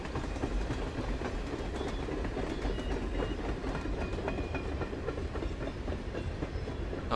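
A train rolls past in the game Life Is Strange 2, a loud, continuous rumble with steady clickety-clack of wheels on rails and no talking.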